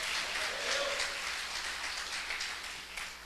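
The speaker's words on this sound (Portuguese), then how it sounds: "Dá um aplauso" A church congregation applauds during a Sunday conference, faint, diffuse clapping like soft rain, steady for a few seconds and thinning toward the end.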